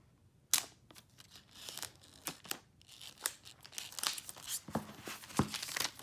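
Plastic wrap being ripped and crinkled off an iPhone X box: a sharp initial tear followed by irregular crackling and crumpling bursts, close and moderately quiet, no talking.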